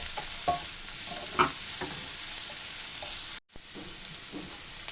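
Wheat adai batter with grated carrot being stirred in a bowl, soft wet scraping strokes over a constant hiss, with a brief dropout partway through.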